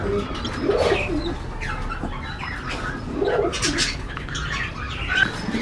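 Pigeons kept with their young coo in soft, repeated rolling phrases, two clear bouts about three seconds apart, close by over a steady background of chirps and faint bird sounds.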